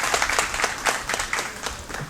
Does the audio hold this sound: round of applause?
yes